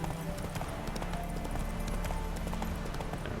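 Roach, the horse in The Witcher 3, gallops with a fast, steady clip-clop of hooves on the ground, close and continuous, over a low rumble of in-game ambience.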